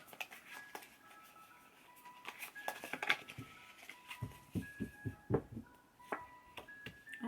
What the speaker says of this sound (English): You guys hear the ice cream truck?